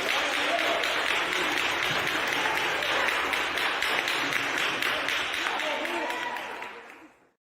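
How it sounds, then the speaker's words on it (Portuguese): A church congregation applauds during a live service, with thick, steady clapping from many hands for several seconds before it fades out quickly at the end. "Vamos aplaudir isso pela vida dele."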